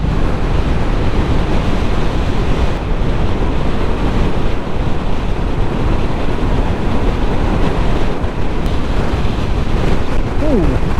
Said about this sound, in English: Oh wow, that's windy.